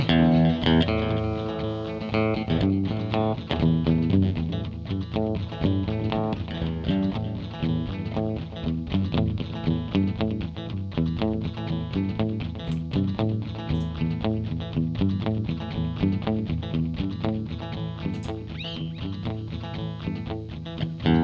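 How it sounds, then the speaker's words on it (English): Electric guitar played through delay and reverb effects with some distortion, sustained chords and notes ringing out with echoing repeats, loud and continuous with no talking. "Delay and reverb at the same time though."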